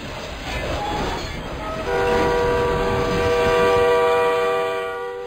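A train rumbles slowly past a railroad crossing, wheels and cars grinding steadily, with a long sustained horn blast coming in partway through and holding to the end.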